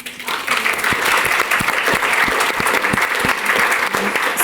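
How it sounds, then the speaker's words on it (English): Sustained applause from an audience at a conversation event on activism and writing, steady dense clapping filling the whole stretch at a fairly loud, even level. "and let us applaud"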